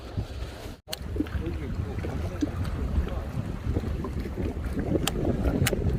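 Wind gusts steadily over a small fishing boat at sea, a continuous low rumble and buffeting with faint knocks, while someone speaks briefly.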